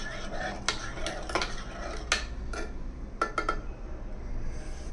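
A spoon stirs porridge in a pot, making a few quick metallic clinks and scrapes against the vessel, close and without talk.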